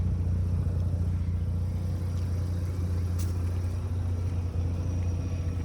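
A warm 1994 Mazda RX-7 FD rotary engine idles steadily with a deep, even low hum and rumble, close by and alone.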